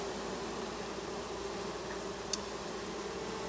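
Honey bees fanning at the hive during a mating swarm, a dense steady buzzing drone close by with one brief faint click.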